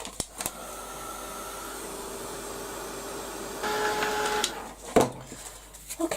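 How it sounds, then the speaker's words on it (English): A heat gun blows hot air over a painted page, giving a steady, close whooshing hum that grows louder near the end, with a few sharp clicks and knocks. "I'm going to give this now a blast with the heat gun"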